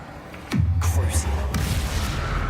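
A Confringo blasting spell in the Hogwarts Legacy video game erupts in a single deep, close boom followed by a lingering rumble and a second smaller impact.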